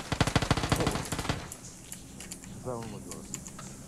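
Automatic weapon fire in the video game PUBG rattles off in a rapid burst of loud shots for about a second and a half, then fainter scattered shots and game sounds follow under players talking.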